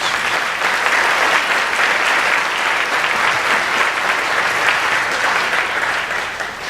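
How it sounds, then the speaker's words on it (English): Dense, loud applause from a large audience at a school awards day holds steady for about six seconds and eases slightly at the end. "So let's give them a round of applause."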